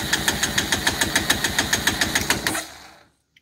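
An engine cranking with the throttle wide open and the carburetor removed, a fast, even rhythmic chug of compression pulses for about two and a half seconds before it winds down and stops.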